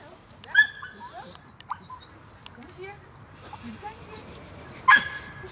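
At an outdoor dog training session, two sharp, loud barks ring out a few seconds apart over a quiet background with faint people talking and soft dog whimpers.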